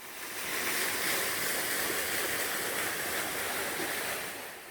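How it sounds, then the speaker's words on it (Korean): A waterfall more than 5 m high in a Wonju valley pours with a steady, broad rushing roar, constant and close, with no voices. "영상으로는 작아 보이지만 높이가 5m는 넘는 큰 폭포입니다."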